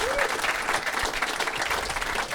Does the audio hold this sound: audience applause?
yes